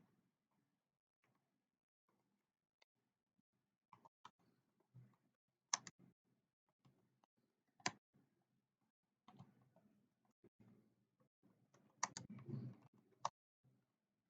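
Keys clack in irregular bursts on a computer keyboard while C code is typed, single taps and quick flurries, close and fairly quiet, with no voices.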